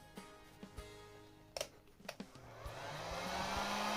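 A repaired TITAN industrial heat gun with a mended broken heating coil switches on after a few clicks and handling knocks, then blows a steady rushing airflow that builds and holds close by.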